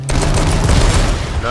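Rapid gunfire bursts in the H1Z1 battle royale video game during a police chase, loud and continuous, with crackling shots over a low engine-like rumble and a voice briefly heard.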